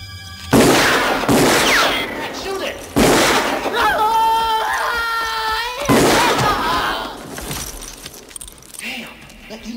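Gunfire aimed at a creature during a temple chase, heard as a few loud sharp bursts spaced across the scene, with a wailing cry and voices in between.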